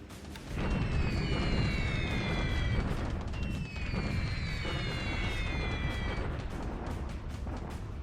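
Bombs exploding on a bombing run in a wartime strategy game, a continuous thunder of overlapping blasts and rumble, with whistling falling tones sweeping over the loud, sustained barrage.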